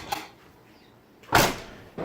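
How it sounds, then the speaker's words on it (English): The rear liftgate of a 1998–2006 Toyota Sienna minivan is shut, a brief click followed by a loud solid thump and a trailing rattle, close by. "you want to close the back door"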